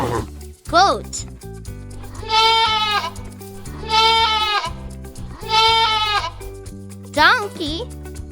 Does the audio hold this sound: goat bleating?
yes